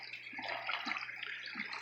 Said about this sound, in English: that's where that water comes out